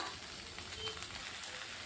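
Spices, fried potato, pointed gourd and fish heads sauté in oil in a pan, giving a soft, steady sizzle with no talking.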